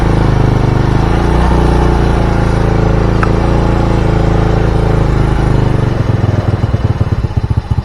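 A Honda Supra motorcycle engine with a fouling spark plug and rough starting, running loud and close with a steady drone that rises in speed, then turns rougher and choppier near the end.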